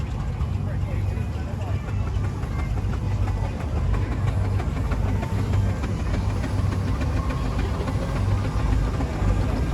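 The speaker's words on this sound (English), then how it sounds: "Now we've got another Marshall traction engine coming." A Marshall steam traction engine runs in a country show arena near Ringmer, East Sussex, its steady low mechanical chuffing and rumble continuous throughout with crowd and outdoor background noise, and a voice talking over it.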